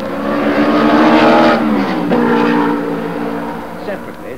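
A pair of Mercedes-Benz W196 racing cars at Aintree, their exhaust notes blending into one loud, close engine howl that rises and shifts in pitch before gradually fading.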